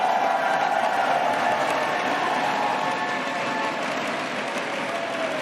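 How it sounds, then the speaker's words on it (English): A large esports crowd in Berlin applauds during a 2024 League of Legends Worlds play-in broadcast, with dense, sustained clapping that holds steady and then eases slightly toward the end. "Berlin, please, one round of applause for them."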